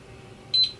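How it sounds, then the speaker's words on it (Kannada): A GeekAire 8-inch fan's touch control panel gives one short, high electronic beep as its child lock is released, clear against a quiet room. "ಒಂದು ಬೀಪ್ ಸೌಂಡ್ ಬರುತ್ತೆ"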